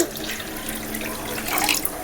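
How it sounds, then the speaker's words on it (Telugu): Running water splashes steadily for a couple of seconds, like liquid streaming into a pot, with a brief brighter gush near the end. "ఇప్పుడు తగినన్ని వాటర్ పోసేసుకోవాలి"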